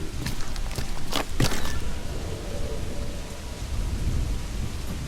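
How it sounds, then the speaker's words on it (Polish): Rain and rumbling thunder in the pirate game Assassin's Creed IV Black Flag, a steady downpour with a few sharp crackling bursts early on, then continuous rainfall, fairly close and without talk. "Deszcz zaczął padać, to no nie jest przyjemny."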